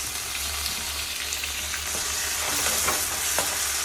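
Tomatoes frying in a tempering of fenugreek seeds, a continuous close sizzle with light stirring scrapes and a low steady hum underneath.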